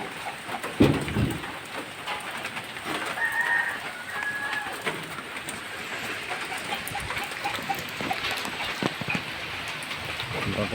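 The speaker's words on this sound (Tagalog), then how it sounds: "Iba pong lakas ng ulan dito" Heavy rain pours down in a dense, continuous hiss with a few louder thumps and faint bird calls in the background.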